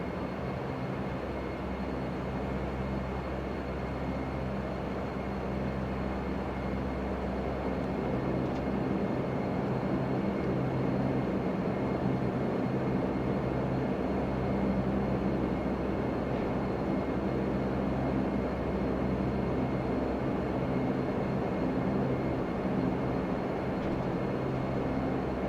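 A Q400 turboprop in a flight simulator game rolls for takeoff as a steady, droning engine roar that holds level throughout, with no talk over it.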